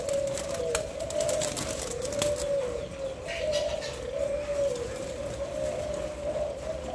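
Imported Thai and Malaysian spotted doves coo in a steady, repeating rhythm, the calls fairly close and clear and carrying on throughout, with light chirps and faint background noise in between.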